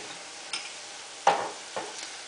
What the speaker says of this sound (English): So now I'm going to add in my turmeric. I'm going to stir that together.